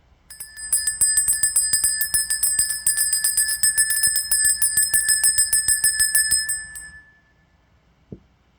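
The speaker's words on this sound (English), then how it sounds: "We are going to ring the bell in 1, 2." A small bell rung rapidly for about six seconds, bright, ringing strikes in a fast steady rhythm, close and clear, then fading out, followed by one faint knock.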